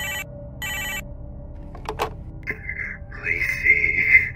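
A telephone rings inside a video game, two short bursts of trilling bell separated by a pause, followed by clicks and a brief electronic tone as the call connects.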